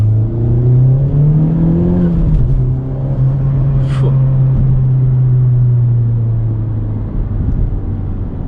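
Honda Civic Type R engine humming while driving, a steady low drone that climbs slightly, dips as the pitch drops and then holds level, with faint road noise and a brief high whine midway.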